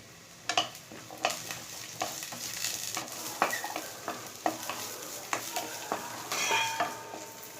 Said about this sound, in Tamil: ஸோ ஆனியன் சேர்த்துனதுக்கப்புறம் ஒரு 2 நிமிஷம் ஆனியனும் சேர்ந்து வதங்கட்டும்.